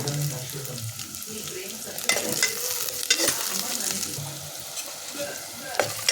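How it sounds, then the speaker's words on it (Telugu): Chopped onions fry in oil with a loud, continuous sizzle close by, punctuated by several sharp stirring scrapes and clatters of the spoon against the pan. "ఉల్లిగడ్డ అంతా నూనెలో గోలింది."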